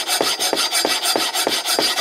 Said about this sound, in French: pour remettre les choses à plat, un petit coup de lime